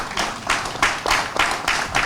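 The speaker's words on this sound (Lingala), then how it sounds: "est-ce que nous pouvons applaudir?" Audience applause at a public debate in Lingwala, Kinshasa, DRC, rising and falling in a series of swelling rounds of clapping.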